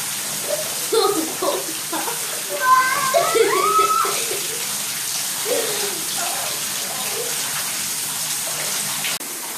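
Steady rushing water pours without pause, with brief voices and splashes early on before the flow continues alone.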